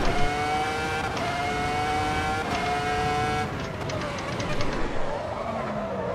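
A race car in Assetto Corsa EVO at Imola, its engine holding a loud, steady high-pitched drone close by, then dropping and shifting as the revs fall away, with a brief tire squeal near the end.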